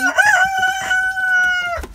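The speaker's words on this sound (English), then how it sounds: "Oh, we got some grouchy roosters." A rooster crows loudly and close by, one drawn-out call that fades into a short cluck at the end.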